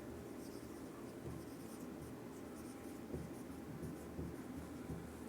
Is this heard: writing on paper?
yes